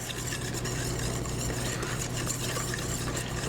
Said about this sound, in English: Just keep stirring it around until a batter forms